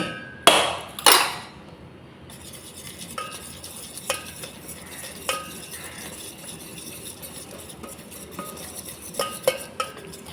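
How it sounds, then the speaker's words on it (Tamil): Metal whisk clinking and scraping in a bowl, a couple of sharp knocks then lighter intermittent taps as ragi (finger millet) dosa batter is mixed with water, close up, no voices. "இந்த விஸ்கு வச்சு கலந்துக்கலாம்"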